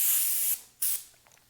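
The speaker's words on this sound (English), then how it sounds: "spraying a little bit of this candy color over that yellow" Createx candy color paint sprayed from an airbrush over a yellow base coat: a steady hiss for about half a second, a pause, then a second short burst, close and fairly loud with no talk.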